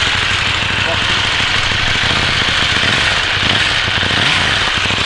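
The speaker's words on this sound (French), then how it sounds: "Pot qui fait un son magnifique d'ailleurs pour une moto d'origine." A KTM Duke 790 motorcycle with its stock exhaust runs at a steady idle. The engine gives a continuous, loud rumble close by and keeps an even note with only slight wavering.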